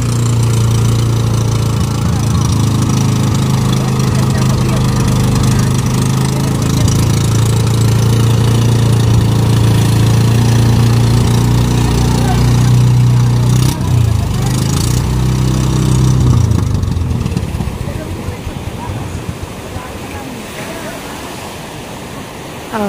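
Motor engines of fishing boats heading out to sea drone loudly and steadily, mixed with crashing surf and wind, the engine hum fading toward the end.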